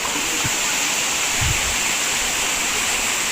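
Bagac Falls waterfall in Bataan pours in a dense, steady roar of rushing water, loud and unbroken throughout, with a couple of faint low thumps underneath.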